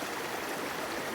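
A stream rushing over rapids and stones, a dense, steady broadband roar of flowing water, continuous and fairly close, with no voices.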